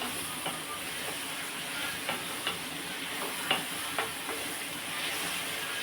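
Onions and tomato paste are stirred in a sizzling pan: a steady hiss of frying with periodic scraping taps of the spoon, close and fairly soft.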